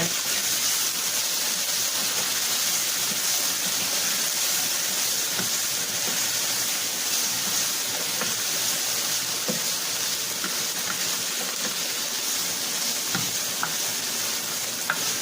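Food sautéing in a pan, a steady hissing sizzle with scattered crackles and occasional stirring clicks, continuous and moderately loud throughout.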